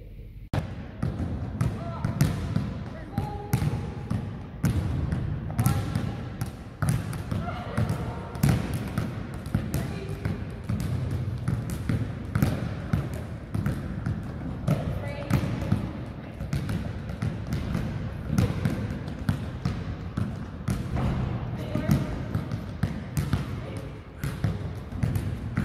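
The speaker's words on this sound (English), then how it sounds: "One person is going to be doing some free throws with basketball. The other one is going to do 10 laps dribbling." A basketball is dribbled and bounced repeatedly indoors during a free-throw and dribbling game, with steady rhythmic thumps running throughout alongside occasional voices and shouts in the background.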